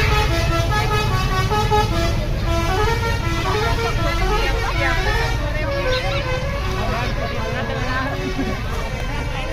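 Buses honk telolet horns at a roadside stop in Ciamis, a loud, melodic run of repeated toots over idling engines and a chattering crowd.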